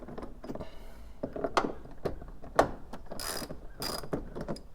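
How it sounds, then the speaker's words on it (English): A hand ratchet clicks steadily while loosening 10 mm bolts from interior trim on a Toyota FJ Cruiser, with close, quick ratcheting bursts and short pauses between them. "So we'll use the ratchet to take off both of these."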